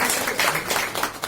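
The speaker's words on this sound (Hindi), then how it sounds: "एक बार जोरदार उनका तालियों से स्वागत कीजिए" Audience applause at a public welcome for a guest at a local gathering, steady dense clapping throughout, loud and close.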